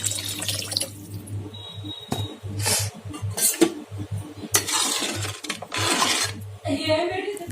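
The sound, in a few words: pouring tamarind juice into egg gravy and stirring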